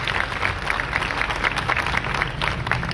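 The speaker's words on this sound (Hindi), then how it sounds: "हम ज़ोरदार तालियों के साथ बिशप जी को खुश आमदीद कहते हैं" Sustained applause from a congregation inside a Catholic church welcoming a bishop at a Eucharist celebration, a dense, even wash of many clapping hands heard up close.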